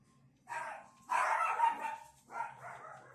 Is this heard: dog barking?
yes